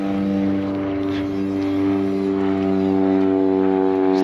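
Steady droning of aircraft overhead, a loud continuous engine hum with layered tones lasting throughout, heard near a GWM Tank 300 four-wheel drive during a tyre fitting test.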